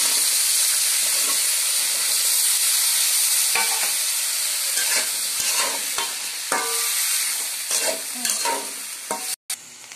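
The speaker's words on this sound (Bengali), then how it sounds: "এখন আমি এর মধ্যে একে একে সব সবজিগুলো ভেজে নিব।" Vegetables fry in hot oil in a pan after brinjal, a loud, dense sizzle running steadily, with stirring scrapes and clatters growing more frequent toward the end.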